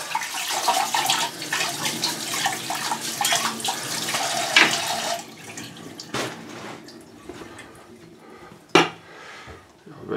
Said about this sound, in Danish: vaske den her kniv op her